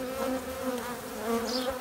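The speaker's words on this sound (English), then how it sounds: "there's a lot of bees here" Many honey bees from a swarm buzz steadily up close, a dense droning hum with wavering pitch and no voices.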